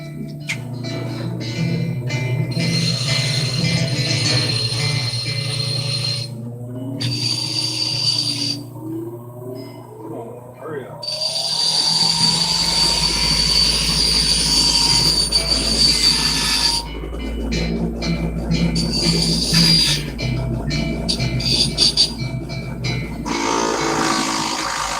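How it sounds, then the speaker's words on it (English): Loud, close bench grinder whine with shifting high squeals as a copper piece is pressed against the wheel to clean it, pausing briefly before the motor hum continues. "I'm gonna go to the grinder for just a minute and clean this copper up"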